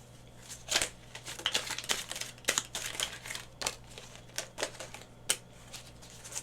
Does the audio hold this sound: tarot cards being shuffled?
yes